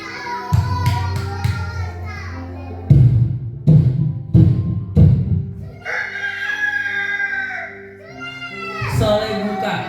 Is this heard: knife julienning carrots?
no